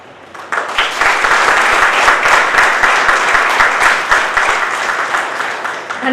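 Applause for Renuka at a college's 91st foundation day ceremony: sustained clapping from an audience rising quickly and holding steady for several seconds, dense and close.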